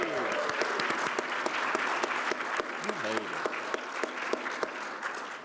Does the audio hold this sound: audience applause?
yes